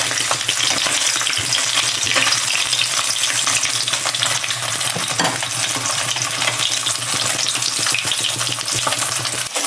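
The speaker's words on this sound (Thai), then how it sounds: "ทอดไข่ ทอดไข่เยอะมาก่อนนะ" Eggs frying in plenty of oil in a pan while cooking Thai stir-fried basil pork, a loud, steady crackling sizzle that runs nonstop throughout with no talking.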